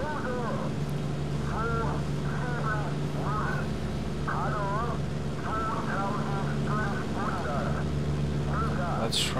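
A damaged Ju 88 bomber drones on in Cliffs of Dover with a loud, steady, humming engine tone, while warbling, quack-like chirps recur over it every second or so.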